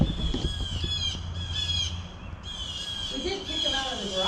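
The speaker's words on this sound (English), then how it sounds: "Did you guys hear all these birds?" Birds squawk and caw outside near trees and a warehouse, a steady run of harsh, close calls over a noisy background, with faint voices mixed in.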